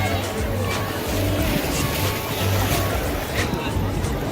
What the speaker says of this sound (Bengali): ঢেউয়ের পর ঢেউ আসছে